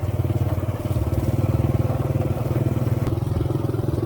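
A motorcycle rides along on a rainy day in the countryside near rice paddies, its engine a steady, loud, close pulsing drone that continues throughout.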